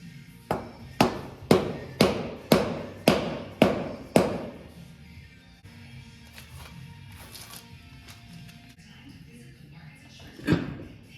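A non-metal hammer strikes a Kubota G4200 diesel tractor seven steady, evenly spaced thuds, then a quiet pause before one last blow.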